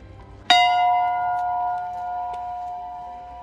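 A single strike of a temple bell at Faila Panchnag Temple near a Tibet border village rings out sharply, then leaves a long, clear metallic hum that slowly fades, close and alone.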